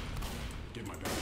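Rifle fire rattles in the video game Left 4 Dead, a quick cluster of close, sharp shots over about a second, with faint speech mixed in.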